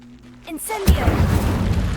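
A fire spell is cast in Hogwarts Legacy, a sudden loud whoosh-burst of flame followed by a sustained roaring crackle, after a brief stretch of softer game sounds and voice.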